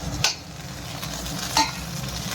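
Garlic paste frying in oil as tomato goes in, a steady close sizzle with two sharp scraping stir strokes, no voices.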